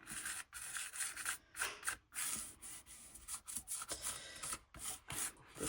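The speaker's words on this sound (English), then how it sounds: "I think I'm going to cut from this side and cut in the hinge." A blade drags along a steel ruler through an old, worn junk journal cover, making close, dry scraping strokes in short bursts with brief pauses between them, with no talking.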